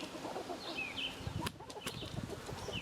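A large Chanticleer rooster clucking in a farm gateway among free-ranging hens, soft, fairly close calls over quiet outdoor background noise.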